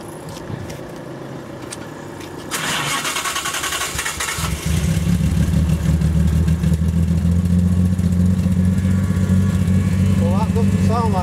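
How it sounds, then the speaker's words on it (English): A 1980 Jaguar XJ6 engine starts with a whirring crank, catches and settles into a steady, loud, deep idle, with people talking nearby at the start. "This is a standard XJ engine."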